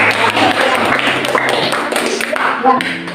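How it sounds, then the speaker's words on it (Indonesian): Classroom applause after a student group presentation, a dense wash of hand clapping from many pupils, loud and close throughout, with voices mixed in beneath it. "Tepuk tangan."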